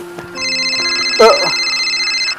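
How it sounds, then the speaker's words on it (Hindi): A telephone rings with a steady electronic trill, fairly loud and close, with a brief voice cutting in partway through. "ओ थार लो फोन बजा जी"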